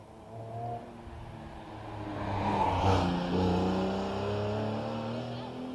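Race car at the Shelsley Walsh hill climb braking into the bottom S from about 85 mph and then accelerating, engine note rising and falling over several seconds, fairly close, with a commentator's voice running over it.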